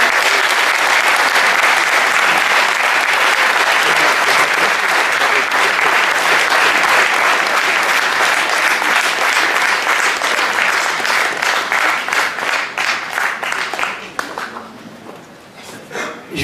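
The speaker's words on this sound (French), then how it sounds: "Faites un tonnerre d'applaudissements pour Ramel." A large audience at a 2017 tournament event in Paris applauds loudly and continuously, dense clapping that gradually thins and breaks into scattered claps at the end.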